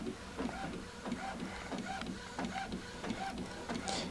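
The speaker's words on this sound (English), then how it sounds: "I know this is kind of boring to watch a disc being printed" Epson Artisan 710 inkjet printer printing onto a CD disc, giving a steady mechanical whirring with a repeating rhythmic pulse and faint clicks, fairly quiet and close, with no talk.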